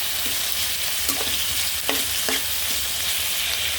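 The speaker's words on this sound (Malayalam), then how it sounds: "എന്നിട്ട് ഒന്നും കൂടെ നന്നായിട്ട് ഇളക്കാം" Onions and tomatoes with salt sizzle loudly in a pan as they are stirred, a constant hiss of frying with a few soft scrapes of the spoon, close and without speech.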